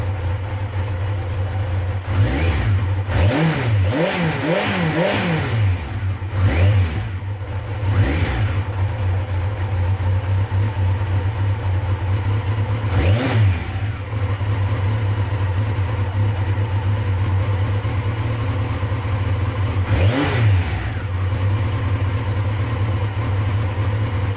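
Yamaha XJR1300 motorcycle engine running steadily near the microphone after a carburettor overhaul, a constant idle hum broken by several sharp throttle blips early on and two more isolated revs later.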